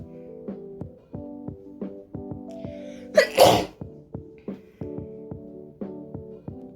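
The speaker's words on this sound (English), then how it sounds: "I have to sneeze." A single loud sneeze bursts out over steady rhythmic background music with a regular beat.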